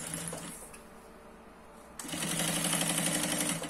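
Sewing machine stitching close along the edge of fabric for a baby changing pad, a steady mechanical whir that starts quietly, pauses, then runs louder and continuous for the final stretch.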